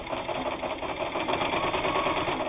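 A Japanese-made precision sewing machine runs steadily along a seam, a fast, continuous mechanical whir and clatter held at an even level close by, with no pauses.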